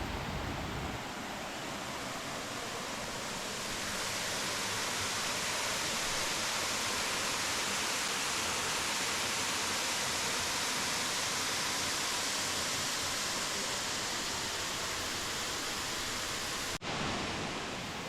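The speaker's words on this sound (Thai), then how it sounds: "แต่เรามาเจอน้ำตกตรงนี้ที่ มีความสูงพอสมควรเลย" A fairly tall tier of Erawan waterfall in Kanchanaburi roars in a dense, constant wash of falling water, loud and unbroken for the whole stretch, with no voices over it.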